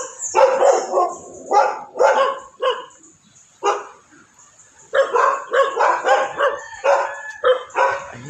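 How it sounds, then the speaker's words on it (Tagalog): A dog barks repeatedly nearby, loud sharp barks in two bursts separated by a brief pause. "Yan, may aso."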